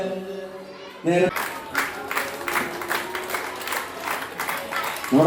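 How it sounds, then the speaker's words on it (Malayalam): Audience applause at a school anniversary celebration at Koorikkuzhi AMUP School, with a dense burst of clapping that begins after a brief tonal sound and continues steadily for several seconds. "സദസ്സിന്റെ കയ്യടി"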